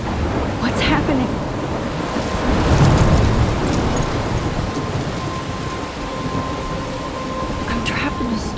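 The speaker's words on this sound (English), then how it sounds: "I'm trapped in a storm?" A thunderstorm in the video game Life is Strange: heavy rain pours continuously while thunder rumbles and swells in the middle, the storm loud and close throughout.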